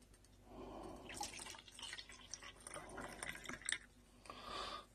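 Distilled water is poured out and drips in quiet, irregular splashes and trickles, faint and close, with a few sharper drops between softer pouring bursts.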